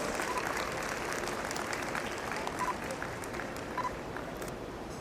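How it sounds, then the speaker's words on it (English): Audience applause at a school annual day function, a dense continuous wash of clapping from a large crowd, steady and fairly even throughout, heard from some distance with a hall-like spread. "I would request the audience to give a huge round of applause."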